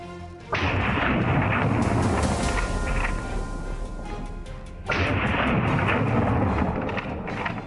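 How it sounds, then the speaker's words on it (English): Hunting rifle shots fired at wild boar near a swamp: two heavy, booming reports about four seconds apart, each followed by a long rumbling echo that fades slowly. "A gunshot rang out, causing the lead boar to spin and collapse."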